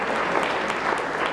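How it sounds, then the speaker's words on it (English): Audience applause fills a school morning meeting at a Cum Laude induction, a steady dense wash of many hands clapping at once, loud and continuous with no talk over it. "Let's give them a round of applause"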